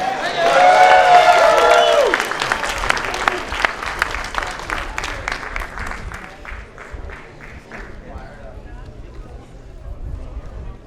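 A movie theater audience applauds and cheers loudly, a dense burst of clapping that slowly thins out into scattered claps and crowd noise.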